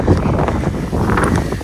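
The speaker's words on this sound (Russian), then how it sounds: "Ой, какой ветер. Шум будет в видео." Loud wind roars and thumps against the microphone in heavy, uneven gusts on a street in Szentendre, Hungary, with faint talking partly buried underneath.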